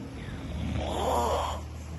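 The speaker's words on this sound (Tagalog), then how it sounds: "Hilik pa more." A sleeping person snores once in a slow, drawn-out rasp over a steady low background hum indoors.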